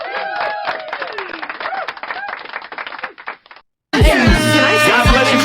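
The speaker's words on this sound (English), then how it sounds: "she deserves definitely a round of applause." Audience applause for someone speaking out about feminism: a burst of crowd clapping over a low voice, cut off and followed by loud music.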